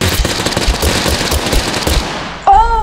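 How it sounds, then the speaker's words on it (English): Rapid bursts of gunfire in the video game Totally Accurate Battlegrounds (TABG) fill the clip densely and loudly, then give way to a sharp, ringing tonal sound near the end with no talking. "The gunfire is terrible."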